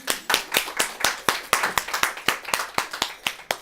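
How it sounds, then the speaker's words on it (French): Audience clapping for a volunteer at a business talk, a small group giving close, rhythmic claps in a steady brisk beat with no talk over it. "Est-ce qu'on peut l'applaudir, s'il vous plaît?"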